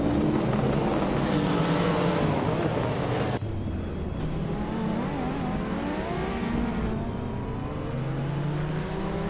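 Race cars including a classic 1995 Nissan Skyline GTR 33L racing at Oran Park, loud continuous engine roar with gear-change drops and rising revs as a pack of cars runs close together.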